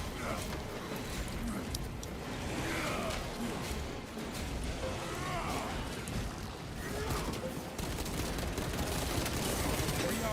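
Dense gunfire and bursts from the Space Marine 2 video game in a Warhammer PvP match, continuous and loud throughout with crashes and chaotic battle noise layered over it.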